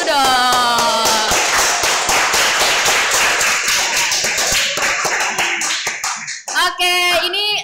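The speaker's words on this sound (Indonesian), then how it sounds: "Tepuk tangan dulu" Applause from a group of people during a live broadcast, loud dense clapping that thins out toward the end, ending with a few scattered claps and a voice.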